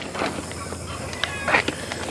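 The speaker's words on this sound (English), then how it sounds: "Somebody's got a chicken" Nearby poultry on a farm gives off a run of short, raspy honking calls, with faint voices and outdoor background noise underneath.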